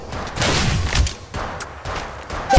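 Gunfire in Apex Legends Mobile, bursts of rapid shots in uneven clusters, fairly loud and close, with brief gaps and a final sharp crack at the end.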